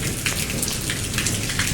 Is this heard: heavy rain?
yes